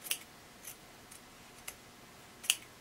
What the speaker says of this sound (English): Now we're going to trim this down to 1/4 inch.